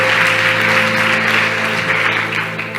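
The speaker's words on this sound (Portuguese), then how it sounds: "Vamos aplaudir ao Senhor." Sustained applause from a church congregation during an evangelical service, a steady dense wash of clapping with a faint organ or keyboard tone held underneath.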